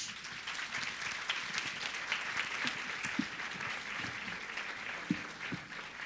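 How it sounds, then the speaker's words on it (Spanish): Audience applause for speaker Rita Segato at a talk on democracy and civilizational crisis: steady, dense clapping from a sizable crowd, fairly distant and even throughout, with no voices over it. "Un aplauso para ella, por favor."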